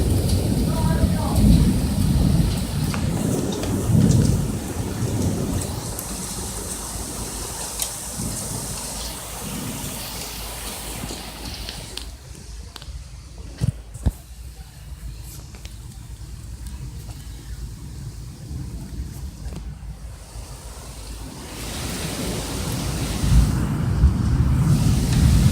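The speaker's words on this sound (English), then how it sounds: "Jesus Christ, look at this storm. It's crazy. It's a crazy storm" Heavy storm noise with rushing rain and low rumbling roars fills the air, loud at first, thinning in the middle, then swelling again, while people talk throughout.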